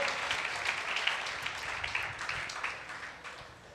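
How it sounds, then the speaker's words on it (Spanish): A church congregation applauds during a Sunday service, a dense, sustained wash of clapping from many hands that fills the room and tapers slightly toward the end. "Dale un fuerte aplauso si es así en tu vida"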